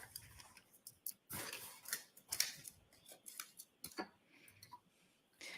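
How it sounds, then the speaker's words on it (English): Scissors snip through a plastic evidence bag at a murder trial, giving several sharp crisp cuts and rustles close by in a quiet courtroom with no talking. "he cuts right through the evidence with those scissors"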